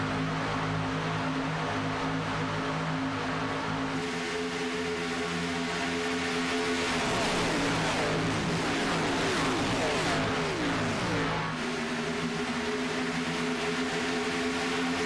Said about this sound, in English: those cars sound good out on the speedway. They try to get up to speed.